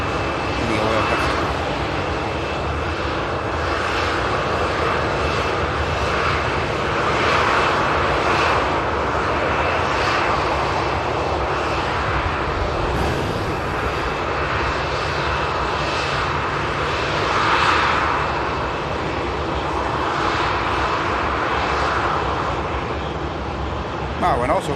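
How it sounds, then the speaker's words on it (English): An EasyJet A320neo jet from Paris on final approach at Manchester Airport makes a loud, continuous engine roar with a sustained whine, steady throughout, while someone talks over it. "We have an aircraft just approaching finals now. EasyJet coming in from Paris."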